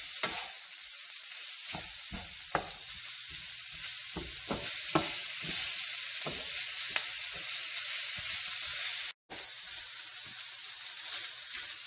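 Ground beef sizzles steadily in a pan, with a constant frying hiss broken by sharp spatula scrapes and clicks from stirring throughout.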